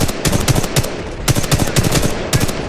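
Rapid automatic gunfire in the shooter game Titanfall 2, loud close bursts of sharp shots in quick clusters with brief pauses between them.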